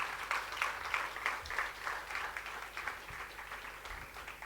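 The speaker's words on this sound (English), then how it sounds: "Let's give him a round of applause" An audience at a live budget-analysis event gives a round of applause for a tax partner, a steady spread of clapping heard at moderate distance in a large room, with no talking over it.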